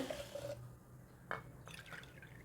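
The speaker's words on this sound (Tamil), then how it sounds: "ஆறு கப்பு தண்ணி வைக்கிறேன் இந்த தண்ணியில் வந்துட்டு அள அளந்து ஊற்றிக்கிறேன்" Water is poured into a pot for making thinai (foxtail millet) pongal, with a short, quiet splash and a trickle close by, followed by a few soft drips.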